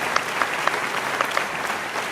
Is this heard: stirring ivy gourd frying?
no